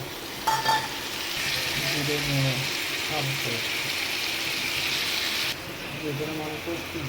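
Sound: frying tomato and green chili

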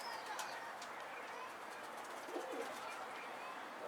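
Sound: pigeon

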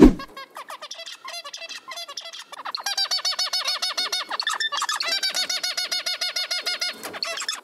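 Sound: birds chirping

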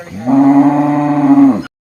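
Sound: cattle mooing at Kollannur weekly market

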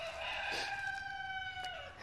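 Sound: rooster crowing at a ranch

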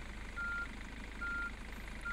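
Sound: reversing beeps of a vehicle in the video game Street Cleaning Simulator

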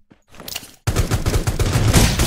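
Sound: gunfire in Rules of Survival video game

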